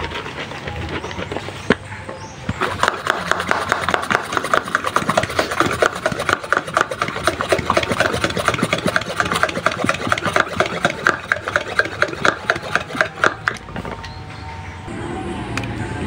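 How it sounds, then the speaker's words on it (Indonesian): A bottle of homemade weed-killer mixture is shaken hard. It makes a rapid, rhythmic rasping slosh that runs loud and steady for about twelve seconds before it stops. "Kita kocok dulu."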